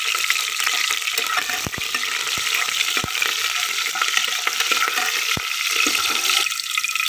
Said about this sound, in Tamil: இது நல்லா கிளறி விட்டுக்கலாம்.